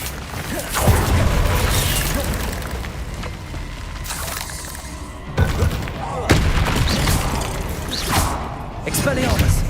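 Spell-casting combat in Hogwarts Legacy's Feldcroft Catacomb, with loud booming blasts from the Confringo explosion spell and other impacts, several sharp bursts over a continuous rumbling background, with a voice calling out at times.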